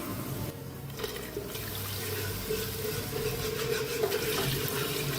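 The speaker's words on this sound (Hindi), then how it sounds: "अब इसके अंदर लस्सी डालते हैं।" Lassi (buttermilk) pours steadily into a pot for making kadhi, a continuous close liquid stream with a faint bubbling gurgle and no talking.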